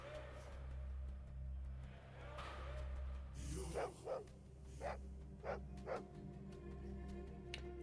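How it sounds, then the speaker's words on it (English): Dog barking in the video game Fallout 2: about five short, sharp barks at a moderate distance, spaced roughly half a second to a second apart, over a steady low ambient drone. "I also hear that dog."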